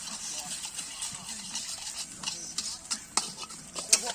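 Eggs and instant noodles are stir-fried in a pan at a scout camp cooking session, with a busy crackling sizzle and scraping spatula strokes that sound close and continuous.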